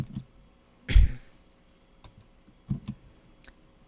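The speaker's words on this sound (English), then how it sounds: "you're going to click the Q on your keyboard" Computer keyboard clicks: a few sharp, close taps and a louder clack, spaced irregularly over a quiet background, with no talking.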